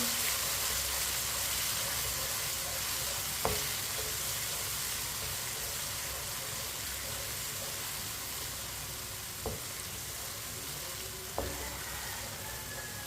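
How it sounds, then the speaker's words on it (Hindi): Finely chopped tomatoes cooking in a pan give a steady, broadband sizzle throughout, with a few sharp spoon clicks against the pan and no talking. "दो बरीक कटे हुए टमाटर, टमाटर को भी 2 मिनट के लिए पका लेंगे।"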